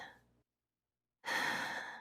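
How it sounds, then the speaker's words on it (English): A deep exhaling breath, a loud, airy rush of breath out that swells suddenly after a moment of silence and then slowly fades, following a faint earlier breath. "deep breath out"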